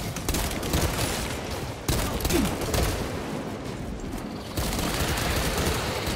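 Rapid gunfire from a shooter video game set in the Warhammer 40,000 universe against Tyranids, a dense, sustained burst of shots up close with brief breaks in the firing.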